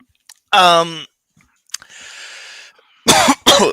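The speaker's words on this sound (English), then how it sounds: "I'm coughing my guts up." Several harsh, close coughs from a man on a live chat stream, a strained hack followed by a raspy breath and two sharp bursts near the end, loud against near silence.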